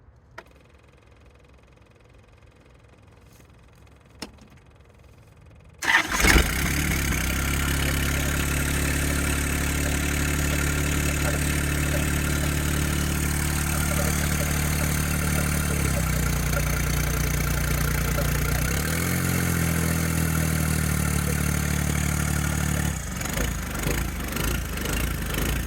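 A John Deere 1025R compact tractor on a 40-degree morning in Arkansas fires up after a few quiet clicks, then settles into a loud, steady idle that wavers slightly in pitch before easing down near the end.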